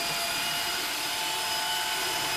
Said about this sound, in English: That whining noise you hear is Toby getting frustrated.